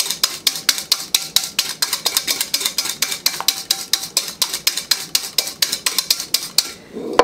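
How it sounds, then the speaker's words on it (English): A whisk beats egg yolks in a bowl for banana pudding, a steady fast rhythm of sharp metallic clicks against the bowl, close and loud, carrying on for several seconds with no talk. "Now what I'm going to do first is whip them until they're blended really well"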